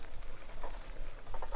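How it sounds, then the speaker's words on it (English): Loose chain case rattling on a Multicycle Tour 600 winter beater bicycle being ridden on wet roads, a continuous light patter of rattles and clicks with scattered sharper taps over rolling road noise. "the chain case is still rattling, especially when I drive over some bumps"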